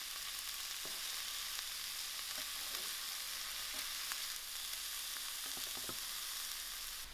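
Spring roll vegetable filling cooks gently in a pan over very low heat with a steady, faint hiss, and a few soft stirring taps come through.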